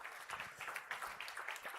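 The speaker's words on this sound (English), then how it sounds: "Please, one more round of applause for the people tech category." Audience applause at a startup pitch competition grand final in Paris, for the people tech category; steady crowd clapping throughout, moderately quiet and somewhat distant.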